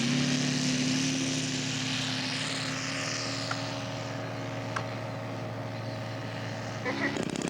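A PT-23 scale model aircraft idles and taxis at an airfield show on a Saturday morning, its steady droning engine tone holding throughout at moderate distance while a commentator talks over it.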